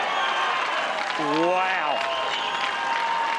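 Steady applause from a tennis crowd at the Australian Open women's singles final, a continuous even wash of clapping under a commentator's voice and an exclamation.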